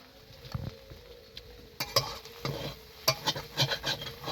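Stirring a Bengali-style rohu fish curry with potato and eggplant frying in oil, with irregular scraping strokes and soft clatters over a low sizzle, close by and fairly quiet.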